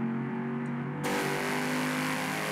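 A car engine in the Test Drive Solar Crown racing game, played with moving gas and brake pedals, holds a steady loud drone that suddenly swells at about one second into a fuller rev and stays sustained.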